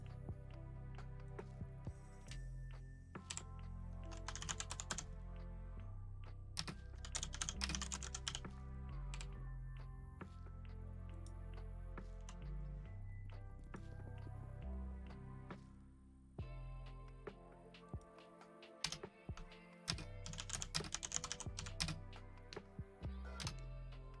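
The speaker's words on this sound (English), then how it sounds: "Me typing out a freaking marketing thing." Steady computer keyboard typing runs through the whole stretch, dense bursts of key clicks with short pauses, fairly close and alone with no talk.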